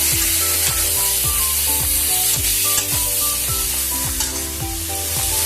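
Spices with salt, turmeric and sugar fry in a pan for a Bengali prawn and elephant foot yam stalk dish, with loud steady sizzling and repeated rhythmic scrapes of a spoon stirring.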